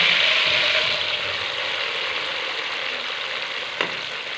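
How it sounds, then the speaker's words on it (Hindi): Steady, loud sizzling of onions and garam masala frying in hot ghee close up, with an occasional light stir or scrape. "घी हमारा गर्म हो चुका है। इसमें शामिल करेंगे हम गरम मसाला, तो इसको 1 मिनट फ्राई कर लेंगे।"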